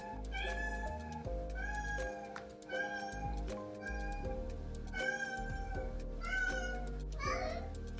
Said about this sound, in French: On remercie Ramalia pour ce magnifique miaulement.